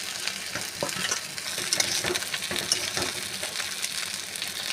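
Sugar is stirred into boiling water in a pan while syrup for homemade morobba is made, giving a dense bubbling hiss with rapid clicks and scrapes from the stirring, close and continuous.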